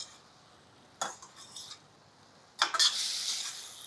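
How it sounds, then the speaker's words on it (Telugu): Quiet clinks of a spoon stirring brinjal curry in a pan, two short bursts of scraping and tapping over a soft, low sizzle, the second burst longer and brighter. "ఒకసారి కూర తిరిగేద్దాము"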